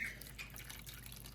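A short, faint splash of lukewarm water poured into a bowl in a kitchen, a soft liquid trickle with no voices.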